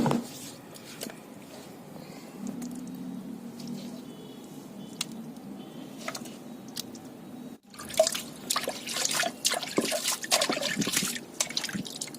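Water splashes and trickles steadily for a while as a wet grinder stone is rinsed, then turns into louder, choppier sloshing and dripping, close by with no talking.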